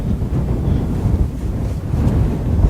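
Steady, loud wind roars and buffets the microphone outdoors on a cool day at a greenhouse build site, constant throughout with gusty low rumble and no voices.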